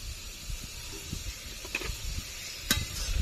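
Spice masala with turmeric, coriander and Kashmiri red chilli powder for chicken curry, frying and stirred in a pan, a steady soft sizzle broken by occasional scraping strokes and a sharp clink, close and quiet.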